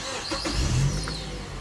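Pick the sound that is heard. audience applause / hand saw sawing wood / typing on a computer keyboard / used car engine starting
used car engine starting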